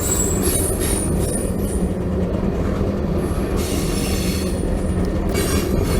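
A long CSX freight train rumbles steadily past up close in Cordele, wheels grinding and squealing on the rails with a continuous heavy roar and no voices.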